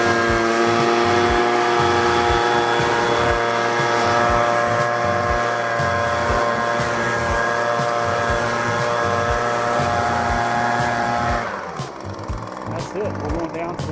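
An Echo PB-250LN gas-powered leaf blower clears gutters, giving a loud, steady high-pitched engine whine that holds close and constant, then cuts off near the end.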